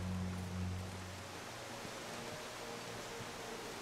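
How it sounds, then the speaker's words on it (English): Waterfall in the video game The Long Dark, a steady broadband roar of falling water that holds at an even, fairly soft level, with a low tonal hum fading out early on. "I think we can go behind this waterfall here"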